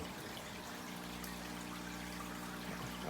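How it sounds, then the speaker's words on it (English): Sand pours into a puffer fish aquarium tank with a steady hissing, trickling rush over a low humming drone, continuous throughout. "I just wanted to put some sand in the tank for him"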